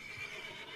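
A black Arabian horse named Rodrigo in Red Dead Redemption 2 gives a short whinny, a brief, thin neigh heard alone over faint background ambience.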